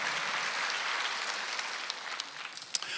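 A church congregation claps during a Sunday service, a dense spread of many hands that holds steady and then thins into scattered claps near the end, heard at a distance and fairly quiet.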